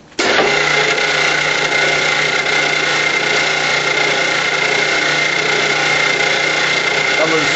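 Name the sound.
machine forming spring for gopher trap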